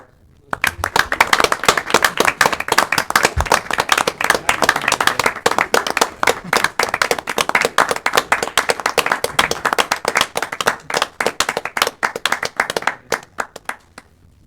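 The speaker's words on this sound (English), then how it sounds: "let's just give Terry a round of applause" Audience at a borough council meeting applauding, a dense burst of many hands clapping that starts abruptly, holds steady and loud for over ten seconds, then thins out and stops.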